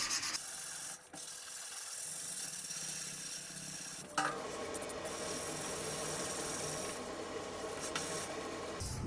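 Body filler on a metal panel being sanded by hand, a steady dry rasping scrub that runs continuously with brief pauses and shifts in stroke.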